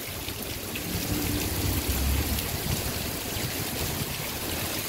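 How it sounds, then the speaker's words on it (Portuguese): Heavy rain with lightning in Paramirim, Bahia, heard as a dense, continuous hiss of falling water and running runoff, loud and unbroken throughout, with no voices. "A chuva apertou."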